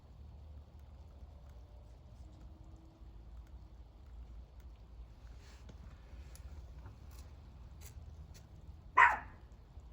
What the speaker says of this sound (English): Yeah, the dog is after something.